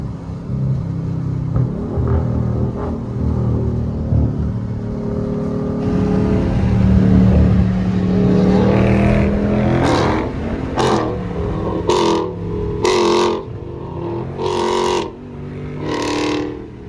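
A 2023 widebody Dodge Charger Scat Pack engine rumbles, then revs hard in several sharp bursts, growling loudly up close.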